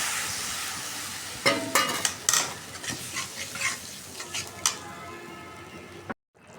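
A spice paste of ground cumin and fried onion with a little water bubbles and sizzles on the stove, stirred with repeated close scraping strokes before going quiet.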